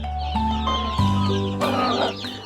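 Sussex hen and chicks cluck close by, the hen giving several loud drawn-out clucks and squawks in a row, with no talk over them.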